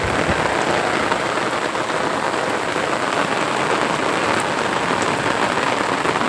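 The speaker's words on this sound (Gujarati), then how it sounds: "તમે જોઈ શકો છો ફૂલ એકદમ પહેલાં કરતાં વધુ વરસાદ આવી રહ્યો છે" Heavy monsoon rain pours down around a temple yard near a pond, a dense, constant hiss of drops striking surfaces, loud and unbroken throughout with no voices.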